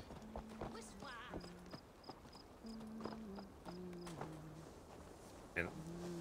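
A horse in the game Assassin's Creed Valhalla makes rhythmic clip-clopping hoofbeats, soft and fairly close, while a voice speaks over them on and off.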